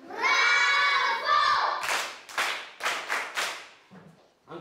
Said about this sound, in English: Eh bien, on applaudit.